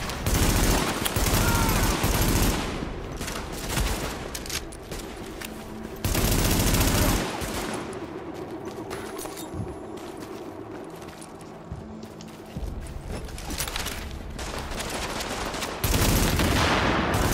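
Heavy gunfire from the Tom Clancy's The Division video game, with dense bursts and sustained automatic fire running throughout, loud sections alternating with slightly quieter stretches, under occasional voices.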